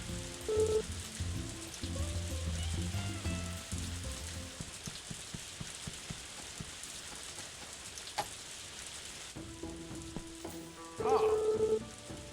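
Rain falls steadily in the game A Wonderful Life, a soft hiss of drops spread across the whole stretch under light background game sounds and occasional chimes.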